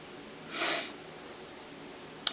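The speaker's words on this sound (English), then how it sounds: "I got the sniffles." A single short, breathy nasal sniffle from someone with the sniffles, close and fairly soft, followed by a brief click in a quiet room.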